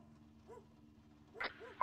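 Dogs bark in a military video game, a few short yelps spaced through a quiet stretch with a steady low hum beneath, ending on a louder, closer bark.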